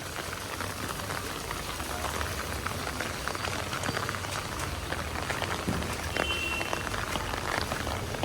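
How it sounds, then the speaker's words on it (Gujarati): Heavy monsoon downpour pouring outdoors near trees and a potted basil plant, a dense continuous roar of rain hitting surfaces close by, loud and unbroken throughout. "પાછો ચાલુ થયો ધોધમાર કદાચ મારો અવાજ સંભળાતો હોય કે નહીં ખબર નહીં બહુ જોરદાર વરસાદ આવે"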